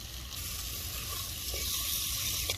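Chopped boiled egg white fries with spices in a pan, cooked outdoors in a garden. A soft, even sizzle runs the whole time with a few faint stirring taps and no talking.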